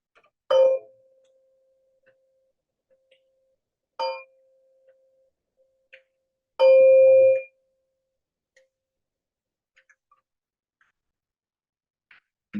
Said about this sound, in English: We'll end with the sound of the bell.